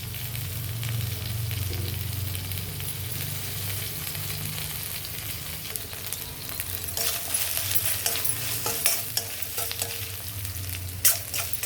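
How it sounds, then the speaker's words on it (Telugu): Ginger garlic paste fries in a pan for a puri curry, with a steady sizzle and stirring that grows busier, broken by quick metallic clinks and taps of a spoon. "ఇదిగండి అల్లం వెల్లుల్లి పేస్ట్ వేగిపోయింది."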